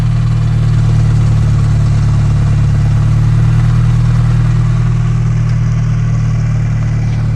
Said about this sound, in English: Get an exhaust sound.